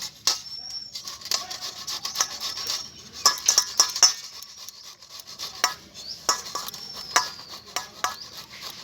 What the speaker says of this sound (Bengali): এবার আমি এই গ্রেটারের সাহায্যে একটু গ্রেট করে নেব